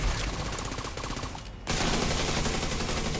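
Rapid gunfire in The Division 2, a loud continuous fusillade of shots in quick rhythm, briefly cut off for a moment before the burst resumes.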